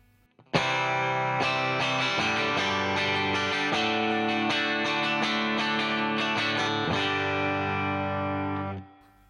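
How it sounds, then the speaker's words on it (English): A Harley Benton TE52 electric guitar on its bridge pickup plays a few strummed chords with a bright, slightly edgy clean tone, each chord ringing out steadily before fading at the end. "This is the bridge pickup on clean."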